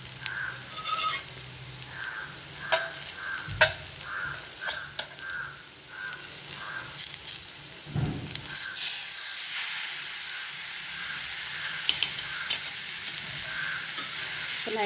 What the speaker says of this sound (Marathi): पुन्हा एकदा आपण परतून घेऊया